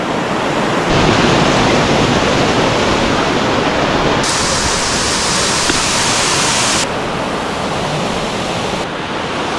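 A mountain-stream waterfall at Yonekozawa roars steadily with dense, rushing water noise, loud and close throughout, shifting slightly in character partway through.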